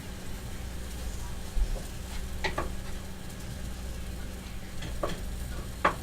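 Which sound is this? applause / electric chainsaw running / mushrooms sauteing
mushrooms sauteing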